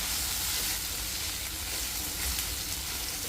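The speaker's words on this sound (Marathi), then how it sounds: "आता आपण यामध्ये दाण्याचं कूट ॲड करूया आणि चांगलं मिक्स करून घेऊया." Bitter gourd with crushed peanuts stirred in a pan, a steady close sizzle and frying hiss with soft scraping of the stirring underneath, continuous and alone.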